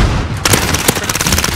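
Loud, rapid bursts of automatic gunfire crackle close by during a 12v12 Search and Destroy match in Call of Duty Modern Warfare, with overlapping shots in quick succession.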